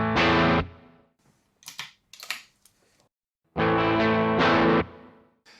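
Electric guitar played through a Tech21 FR5 overdrive pedal, loud sustained distorted chords that ring out and cut off, with softer scratchy picking and muted string noise in between before another long crunchy chord burst.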